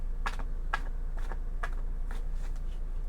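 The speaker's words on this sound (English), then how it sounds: "A couple more shuffles." Tarot cards being shuffled by hand, several quick riffling bursts in a steady rhythm, close and fairly quiet with no talking.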